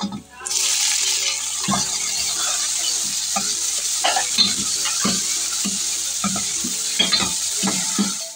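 Chopped tomatoes fry with onions in a hot pan, giving a steady bright sizzle broken by repeated scraping stirs of a spoon.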